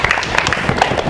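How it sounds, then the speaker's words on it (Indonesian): Steady applause for Kinari and David on a dating show, a continuous patter of many hands clapping at moderate loudness and filling the whole moment without a break. "tepuk tangan buat Kinari dan juga David"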